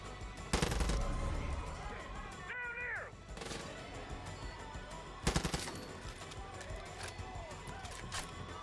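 A mounted machine gun in the Far Cry 5 video game rattles off two loud, dense bursts of rapid fire, separated by quieter gameplay sounds with faint chirping effects.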